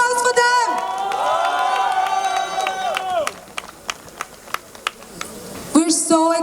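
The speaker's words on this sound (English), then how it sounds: "Can we please have a big round of applause for them?" A crowd at a sangeet celebration whoops and cheers loudly with some applause for the first few seconds, then drops to scattered claps and a few voices before a short burst of cheering at the end.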